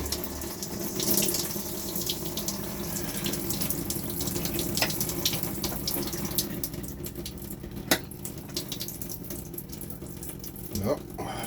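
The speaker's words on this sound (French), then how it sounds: "On va mettre la douche." Water runs from the shower in an RV, a continuous hissing spray at moderate level that persists throughout, with a few brief knocks and clunks and a voice speaking faintly at times.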